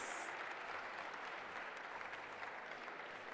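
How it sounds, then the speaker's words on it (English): Audience at a school science quiz championship applauding the contestants, giving dense, sustained clapping that holds a steady level from start to finish. "a bigger round of applause for the contestants"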